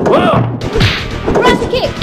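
Cammy's thrust kick landing in the Street Fighter: The Movie arcade game: quick whip-like swishes and a few hard thwacking impacts in close succession, mixed with short game voice shouts.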